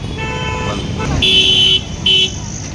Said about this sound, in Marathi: हा आमचा चार रस्ता आहे यावर ट्रॅफिक असते खूप